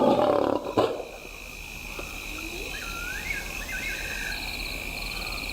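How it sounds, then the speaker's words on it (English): A lioness calls to her cubs with a short, deep roar at the start, and a chorus of insects and frogs carries on steadily afterward. "The big lioness begins the trek back for her cubs, but the youngsters have heard her call"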